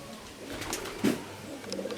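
Pigeons of a high-flying breed held for sale give soft, low throaty coos close by, with one louder coo midway through a brief stretch of faint background noise.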